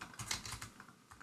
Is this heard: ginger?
no